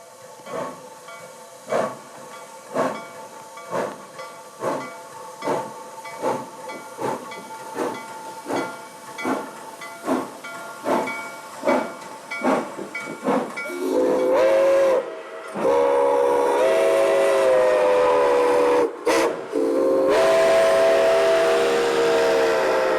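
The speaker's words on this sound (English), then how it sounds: "the Big Berkshire is pulling a freight train just for photographers" Nickel Plate 765, a Berkshire steam locomotive pulling a freight train, chuffs in rhythmic, accelerating exhaust beats, then a loud, sustained steam whistle blows, cutting off briefly before sounding again.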